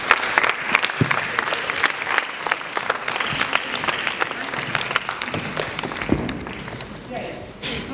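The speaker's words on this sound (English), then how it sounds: "And a huge round of applause for them." Applause from an audience at a school event on waste segregation as a group is called up on stage, scattered clapping with footsteps and thumps of people moving, while people talk and cheer over it before it fades.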